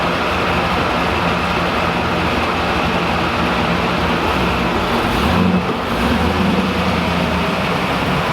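Pontiac Trans Am cruising on the highway, a steady, loud broadband road and engine drone that holds evenly throughout with no talk.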